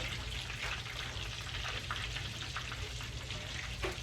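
Mozzarella-stuffed ground beef meatballs deep frying in hot oil, giving a steady, dense sizzle with faint crackles and pops throughout, close and alone without any talk.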